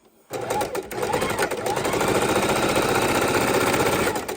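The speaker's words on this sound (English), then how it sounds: "just do a straight stitch right across there" A sewing machine starts up and runs steadily sewing a straight stitch across quilt fabric, its rapid needle chatter going continuously for several seconds.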